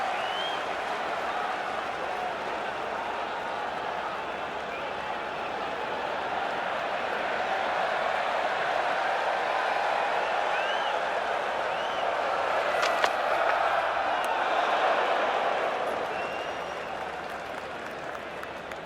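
Cricket crowd at a Lord's Test match between England and India, a broad, distant wash of applause and murmuring that swells and fades over many seconds, with a few scattered sharper claps.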